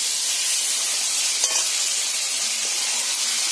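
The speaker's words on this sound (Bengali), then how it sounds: "এবার আমি এর মধ্যে ভেজে রাখা আলু আর লাউটা এর মধ্যে দিয়ে দেব," Fried potato and bottle gourd pieces go into spice paste that is already releasing oil in a pan, giving a steady, close sizzle and hiss with a faint stirring scrape. No one speaks.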